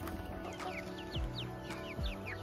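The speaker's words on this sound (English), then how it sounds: "It's the chicken swarm." A backyard flock of chickens clucks and chirps at a moderate distance, short repeated calls layered over steady background noise with a couple of low thumps.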